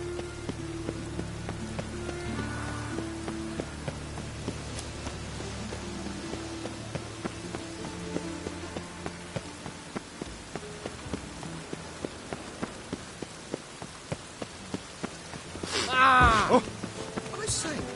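Steady rain patters on a surface with a regular dripping rhythm, fairly close and continuous, then a voice breaks in briefly near the end.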